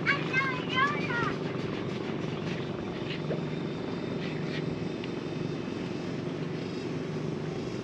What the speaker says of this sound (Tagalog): Mag-start na yung makina.